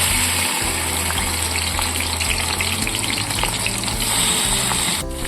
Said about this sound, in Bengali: হলুদ লবণ মাখানো চিংড়ি মাছগুলো ছেড়ে দিচ্ছি।